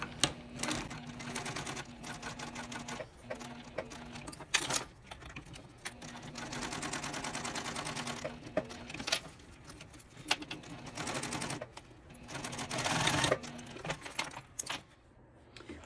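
A sewing machine stitches a wallet's interior panel in short, rapid bursts of mechanical clatter, pausing and restarting several times with light handling rattles between runs, close and moderately loud.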